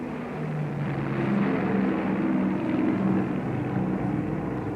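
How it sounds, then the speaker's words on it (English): A propeller bomber plane flies overhead on a moonlit night, its steady, droning engine roar filling the air at a constant level without fading. "So at this point, they could hear the plane coming."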